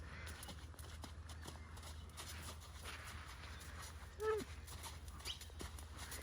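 A horse walks in a riding arena during a training session, its hooves giving a soft, steady clip-clop under a constant low hum, with a few faint voices in the background.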